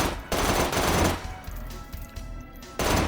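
Automatic gunfire from a Goldeneye-style weapon in the VR shooter H3VR rattles out in loud, close bursts, a sustained stream of rapid shots that pauses briefly before another burst starts at the end.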